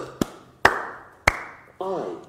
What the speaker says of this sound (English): Let's clap, everyone.